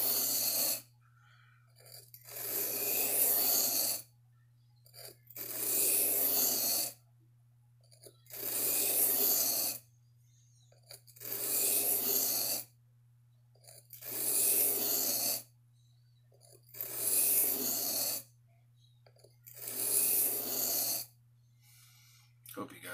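A knife blade is sharpened to relieve its bevel, with long rhythmic strokes that repeat about every three seconds, each a hissing scrape separated by near silence over a faint constant low hum.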